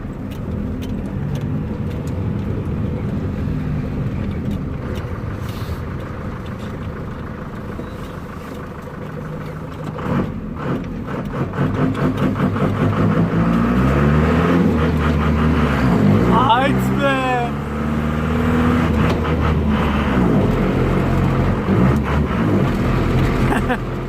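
A Ford Transit with a modified exhaust idles with a low rumble, then revs up loudly, the engine note climbing and falling in hard bursts, with people talking over it.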